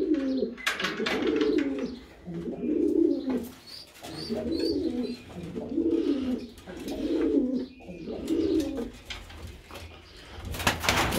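Breeding Urfa pigeons in a loft coo repeatedly, a steady rhythm of low throaty coos about every second and a half, close and loud, with wing flutters, rustling and a sharp knock near the end.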